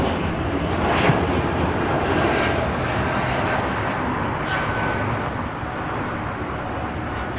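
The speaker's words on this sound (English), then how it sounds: "that next arrival is 21-year-old A320." A 21-year-old Airbus A320 with flap issues arriving at LAX, a broad steady jet roar that holds loud throughout, with faint voices underneath.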